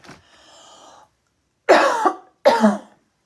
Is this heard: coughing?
yes